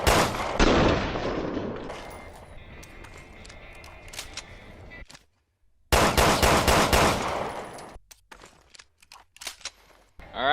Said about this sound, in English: Since it's the first handgun, there's nothing really to compare it to, so let's go ahead and test it out.